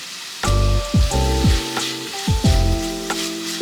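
Vegetables and spices frying with tomato paste for shakshuka, a loud close sizzle broken by several stirring scrapes of a utensil across the pan, with no voices.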